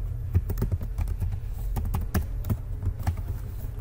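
Rapid, uneven keystrokes on a computer keyboard while PHP code is typed, close and clear with no talking.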